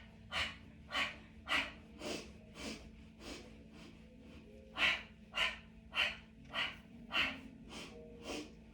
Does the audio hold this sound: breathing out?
yes